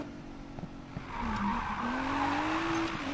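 A car in the Need for Speed Payback racing game drives with a steady engine drone, then skids and squeals its tires in a long rising screech, fairly loud and with no talk over it.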